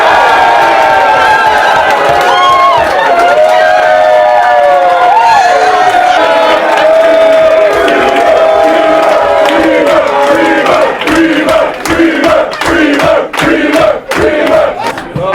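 Loud crowd in a New York pub roaring and cheering together in a sustained chant with rising shouts, breaking into choppier bursts of yelling toward the end.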